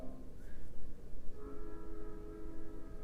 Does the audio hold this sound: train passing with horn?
yes